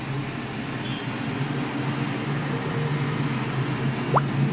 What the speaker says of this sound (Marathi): गाड्यांचा आवाज येतोय ना